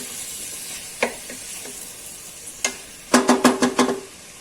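Onion fries in a pan, giving a hissing sizzle with sharp crackles and pops that cluster into a quick run of bursts near the end, close and fairly loud.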